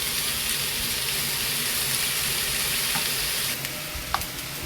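Vegetables and pork stir-fried in a wok for homemade jajangmyeon, making a loud, dense, steady sizzle with a few metallic scrapes and a sharp clink near the end. No one talks.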